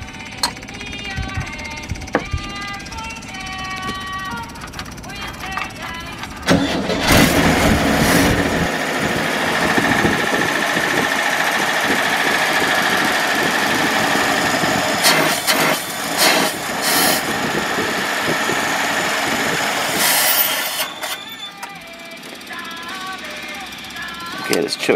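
An engine with a choke cranks and catches, sputtering at first, then settles into a loud, rough running roar that fades back down near the end, with a person talking over it.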